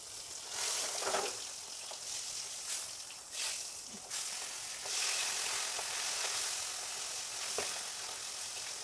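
Food sizzles and fries steadily in a hot pan, a continuous close hiss of oil with occasional sharper crackles and pops, no one talking.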